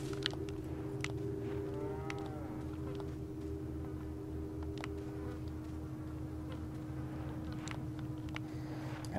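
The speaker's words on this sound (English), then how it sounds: "Gotta kill these fucking cows." Cows in the video game Resident Evil 4: a faint, low moo near the start over a steady in-game background hum, with sparse clicks and ticks.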